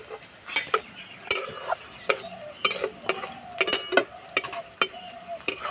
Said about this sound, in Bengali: পেঁয়াজ আর রসুন ভাজা হয়ে গেছে এবার দেবো কালো জিরে